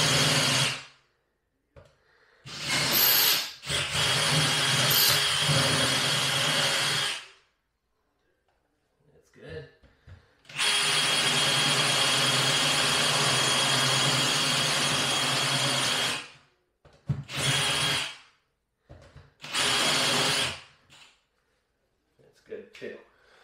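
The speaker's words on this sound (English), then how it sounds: "So I'm going to take the biggest Forstner bit I got. I'm going to drill a hole here." A power drill fitted with a large Forstner bit bores through the top layer of plywood flooring during a bathroom remodel, running in several loud whirring bursts of varying length, with pauses and brief handling noises between them.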